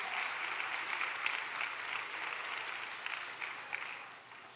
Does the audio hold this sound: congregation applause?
yes